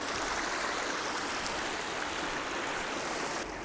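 Steady broadband rush of river water flowing around an RC truck's crossing point, a Traxxas TRX4M 1/18 High Trail Chevy K10, with a waterfall nearby; continuous and close, with no voices.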